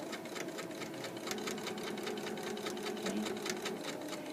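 A sewing machine runs steadily, stitching a seam on shorts fabric with rapid rhythmic needle strokes throughout, close and clear, and a single brief spoken word.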